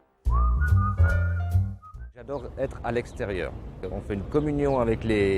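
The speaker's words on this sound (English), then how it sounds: "still whistling his way to work" A postman whistles a short bright tune on his way to work, then starts talking, with more whistled notes woven through his speech.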